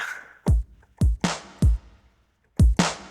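Old-school electronic drum kit kicks from a Yamaha PCI synth rig: five or six thick, punchy kick hits with short decays, played alone in an uneven pattern with near silence between them.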